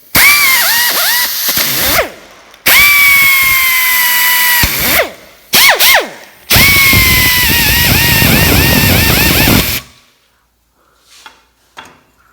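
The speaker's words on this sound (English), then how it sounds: "I went ahead and I'm just going to grind all of them" A power grinder works on the holes of a John Deere 40 Series corn head, running in loud sustained whining bursts with pitch sweeps as it spins up and down, separated by short pauses, then faint clanks as it stops.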